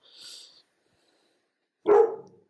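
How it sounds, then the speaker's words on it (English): A dog barks in a home, first a faint, muffled sound early on, then one loud, sharp bark near the end after a pause of silence. "sorry guys, my dog's in the background"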